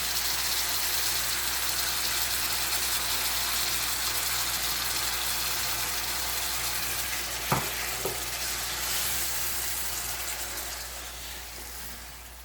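Tomato puree added to a pan of chicken achar gosht, giving a steady, fairly quiet sizzle and fry with a couple of brief stirring knocks partway through, and no talking.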